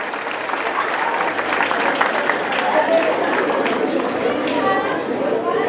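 A school audience claps during a visit ceremony, a continuous roomy wash of applause mixed with crowd chatter and voices throughout.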